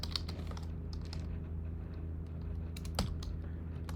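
Rapid close keystrokes on a computer keyboard during coding, an irregular stream of light clicks over a steady low hum, with no voice.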